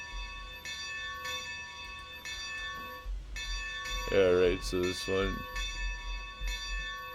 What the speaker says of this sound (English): we're ringing the bells.